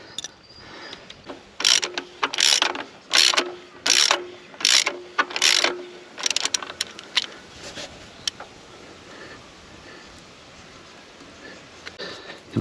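A ratchet clicks in about eight quick, loud bursts while tightening the alternator bolts on an 80 Series Landcruiser, then the strokes fade into quieter handling of tools with no talk.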